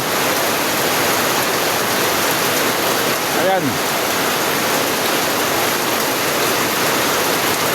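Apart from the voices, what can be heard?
heavy rain pouring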